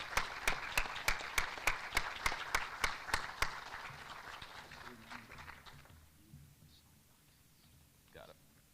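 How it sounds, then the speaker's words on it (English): At a Chamber of Commerce luncheon, guests applaud the Teacher of the Year with sharp, evenly spaced claps over a bed of general applause, which thins out midway before a voice speaks faintly. "So give a big round of applause here for Mr."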